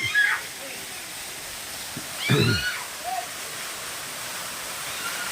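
A waterfall in a wooded hillside spot near a Shiva temple in Tirupati makes a steady, even rush throughout, with a couple of brief vocal sounds rising over it early on.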